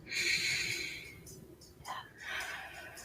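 Deep diaphragmatic breathing during a guided relaxation exercise: a long, airy inhale followed by a breathy exhale, close and moderately loud, with no talking.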